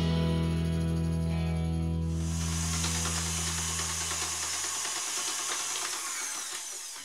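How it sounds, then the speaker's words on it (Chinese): Electric mixer beating butter at medium-high speed for a pineapple cake dough, a steady whirring motor hum that shifts into a bright, hissy whir and then fades slightly at the end. "继续的中高速打发，大概需要2-3分钟吧。"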